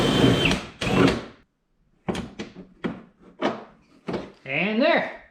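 A power tool drives a bolt through a Mud Buster fender flare on a Honda Pioneer 500 UTV. Several short knocks and clatters come first, then a brief whirring spin-up near the end, fairly close.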